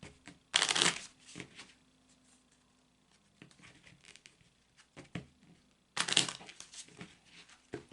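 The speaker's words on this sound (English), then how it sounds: "So I'm shuffling the cards." A deck of Kipper cards shuffled up close, two loud riffling bursts at the start and end with quieter tapping and card handling in between, no voices.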